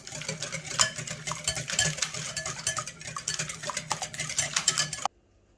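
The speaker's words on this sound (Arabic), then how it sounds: "نخلطوهم مزيان." Eggs, sugar and oil get whisked together in a bowl, a quick rhythmic scraping and clinking of a utensil against the sides, close and busy, stopping abruptly at the end.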